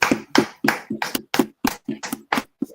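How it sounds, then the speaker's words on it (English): A class claps their hands in a slow, even rhythm of about ten sharp, close claps with brief silences between them and no talking. "Clap it up for the class."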